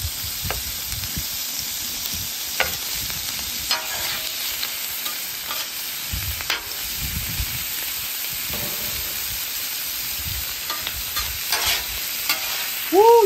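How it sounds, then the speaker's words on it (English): Sausage sizzles and spits in butter on a flat-top griddle for Cajun shrimp fried rice, a steady close frying hiss with scattered crackles and scraping stirs, ending in a brief louder clatter. "I'm going to start my sausage off in that butter."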